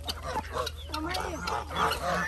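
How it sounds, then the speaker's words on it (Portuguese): Duck calling close by, a run of short honking quacks mixed with other fowl, over a steady low hum, with people talking nearby. "Pega o pato."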